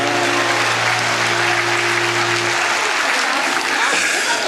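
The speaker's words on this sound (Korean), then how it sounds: "자리로 들어가실 때까지 다시 한번 뜨거운 박수 부탁드립니다" Loud, sustained applause from the congregation at a church confirmation and baptism service, dense clapping throughout with a low organ-like hum underneath that fades partway.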